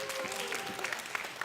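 A church youth-service audience claps for a group of third-year middle school singers, a faint, steady patter of many hands heard from some distance, with a sustained tone running underneath.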